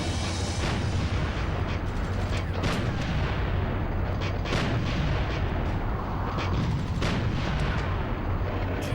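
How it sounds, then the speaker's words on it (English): Continuous heavy barrage of bazooka explosions and gunfire in the PlayStation game Army Men: Lock 'n' Load, dense rumbling booms overlapping without pause, loud and close. "I'm getting hit by bazookas."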